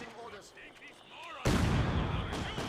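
A mortar pit firing in the strategy game Company of Heroes 2, a sudden heavy blast rolling out under ongoing battle noise and distant gunfire, with a voice talking over the scene.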